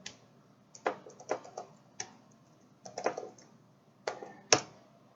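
Irregular bursts of keystrokes on a computer keyboard, entering a short line of code at a workstation; close, dry clicks come in small clusters separated by pauses, with no talking over them.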